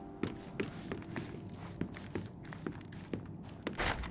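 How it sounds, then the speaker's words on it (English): Footsteps sound from the floor above inside a Sherlock Holmes detective video game, a steady run of soft thudding steps, faint and muffled, with no talk. "I heard footsteps upstairs a second ago."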